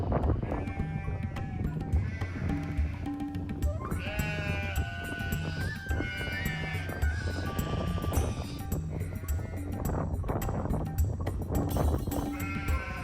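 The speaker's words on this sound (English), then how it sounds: "Tashi usually checks on her sheep as they spend most of their time grazing outdoors" Sheep bleating repeatedly while grazing outdoors in a Himalayan village beneath Mount Everest, the calls layered and overlapping over a steady, busy outdoor background with no talking.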